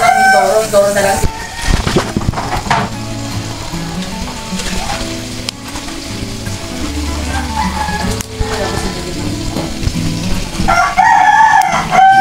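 Chickens cluck and a rooster crows repeatedly, loud and close, over squid adobo sizzling in a charcoal-fired pan and people talking nearby.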